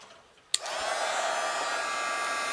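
A heat embossing tool clicks on and blows a steady, loud whirring hiss while melting embossing powder on a stamped frame, continuing evenly after a sharp start.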